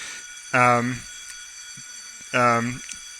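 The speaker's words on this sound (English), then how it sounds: "There's a fire alarm" A fire alarm at a school sounds in two short electronic buzzing bursts about two seconds apart, steady and moderately loud over a quiet room hum.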